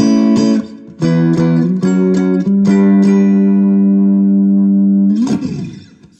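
An electric guitar plays through a Positive Grid Spark amp at its highest volume setting: loud, close, sustained distorted notes and chords with several sharp re-strikes, a long ringing hold and a final scraping swell that fades out.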